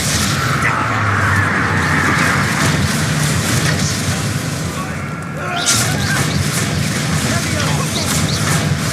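A Bombarda blasting spell explodes in Hogwarts Legacy with loud, dense booming bursts, one sharp blast near the end, over continuous game noise while a voice talks.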